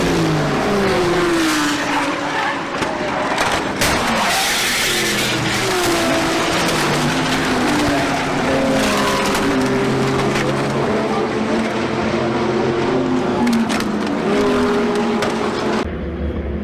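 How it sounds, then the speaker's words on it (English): A race car at Spa skids off the track over grass bumps and into the barrier, a loud continuous engine roar with sliding tire squeal and shifting pitch, ending abruptly near the close. "the car just skitters off all right"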